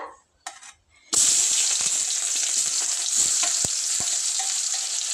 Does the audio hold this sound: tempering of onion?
yes